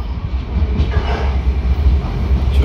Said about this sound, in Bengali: তো আমাদের মেট্রো কামিং,